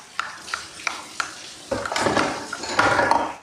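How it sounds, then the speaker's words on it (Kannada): Masala is stirred into mashed potatoes in a bowl: a few separate light utensil taps against the bowl, then denser scraping and mixing noise that grows louder toward the end, close and with no speech. "ಅದಕ್ಕೆ ಈ ಮಸಾಲೆನ ಹಾಕಾಕೊಂತೀನಿ ನೋಡಿರಿ. ಹಾಕಿದ್ಮೇಲೆ ಚಲೋ ತಂಗ ಮಿಕ್ಸ್ ಮಾಡಬೇಕು."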